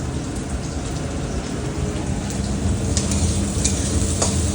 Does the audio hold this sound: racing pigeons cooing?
no